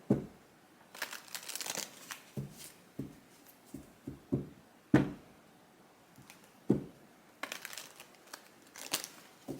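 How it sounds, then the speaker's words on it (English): Tarot cards are shuffled up close, with repeated riffling bursts, papery crinkles and soft taps coming in irregular clusters; no voices. "let me just shuffle it again"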